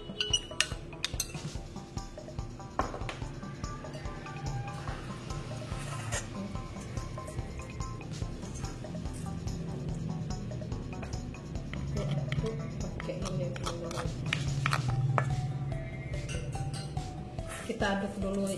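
Mackerel fish paste being stirred with sugar, salt and white pepper in a bowl, with soft squishing and intermittent clinks of a utensil against the bowl, close up, while a person talks.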